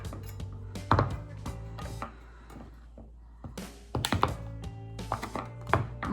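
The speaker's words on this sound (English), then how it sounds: "So I'm just gonna chop it up." Hard soap base being cut into cubes with a sharp knife on a board, a run of sharp, irregular chopping knocks with brief pauses between bursts, close and clear with no talk.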